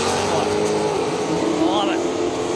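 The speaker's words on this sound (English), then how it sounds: "He's got the nitrous purge happening after he does his burnout." A drag car engine drones loudly at Willowbank Raceway after a burnout, with a brief hissing sweep of a nitrous purge rising over the steady rumble partway through.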